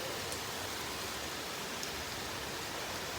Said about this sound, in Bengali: যেমন বাতাস তেমন বৃষ্টি।